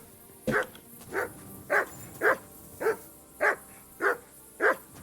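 Eight evenly spaced barks from a dog in Kingdom Come: Deliverance II, loud and close, each a sharp single woof with a short pause between, alone without talk.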